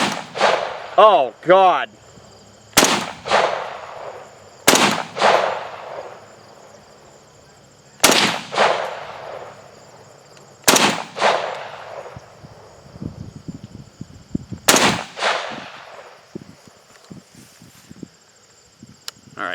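Repeated loud gunshots from a Chinese SKS bullpup rifle, five sharp cracks spaced a few seconds apart with echoing tails, with a man's brief exclamation near the start and some quieter handling noise between shots.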